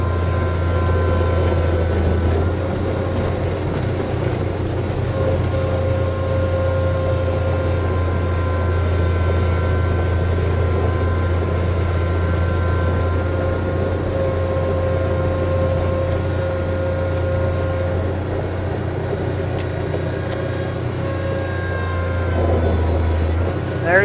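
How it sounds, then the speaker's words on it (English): A 2018 Bobcat 3650 utility vehicle engine runs steadily with a low, constant drone as the throttle is held open to work the hydrostatic drive, with no talk over it. "you actually open the throttle up to make the hydrostatic unit work the way I'm doing it right now."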